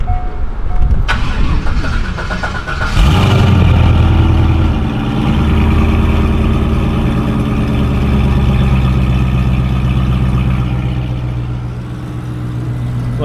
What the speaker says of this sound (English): Alright, let's start it up. Let's hear what she sounds like.